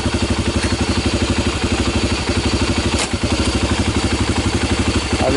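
A 1996 Honda TRX300EX ATV engine runs steadily at a close, loud idle with a rapid, even chugging pulse and light mechanical clatter, and a brief clunk near the middle as it is shifted into gear.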